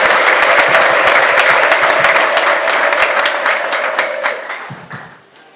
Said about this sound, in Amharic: ለእግዚአብሔር ትልቅ ጭብጨባ ትልቅ እልልታ እናመጣለን